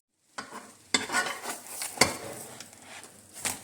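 Chapati flatbread frying in oil in a pan, sizzling steadily while a utensil flips it, with several sharp clatters against the pan, close and fairly quiet.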